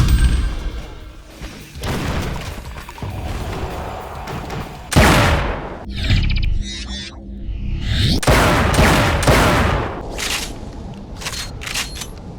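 Shotgun firing in The Chronicles of Riddick, a series of loud booming blasts with heavy thuds, crashes and debris between shots, under continuous game noise and with no talking.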